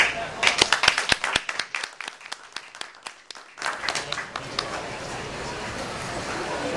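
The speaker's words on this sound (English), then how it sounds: "Just a round of applause." A health care symposium audience breaks into applause: a few sharp, separate claps at first, then a brief near-silence, then a fuller, steady wash of clapping from the room.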